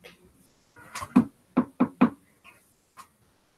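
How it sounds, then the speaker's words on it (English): A door is knocked tentatively, four clear raps with a slight pause after the first, close and moderately loud, followed by a couple of faint softer taps. "She'll knock tentatively."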